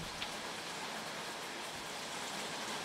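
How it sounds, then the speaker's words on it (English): Heavy rain pours down as a dense, steady hiss that fills the whole stretch evenly, continuous and moderately close, with no voices over it. "Can you guys hear that rain?"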